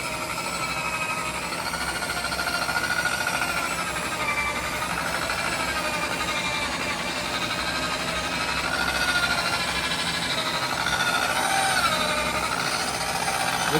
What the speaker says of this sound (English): So I started with the first wool pad at a real low speed.